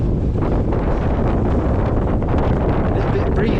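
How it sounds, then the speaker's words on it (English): Wind buffets the microphone on an exposed mountain ridge along the Colorado Trail, a loud, constant low rumbling roar that fills the whole moment without letup. "It's a bit breezy up here."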